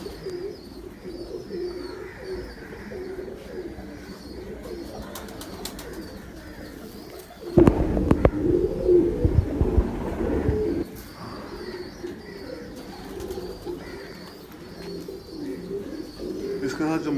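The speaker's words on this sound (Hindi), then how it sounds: "बड़ा कंप्लीट कबूतर है" Ferozpuri breed pigeons coo in low, soft murmurs throughout, rising briefly louder in the middle amid some rustling and background noise.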